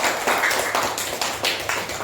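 Brief clapping from a classroom group of students, a soft run of rhythmic claps close by with no talk over it.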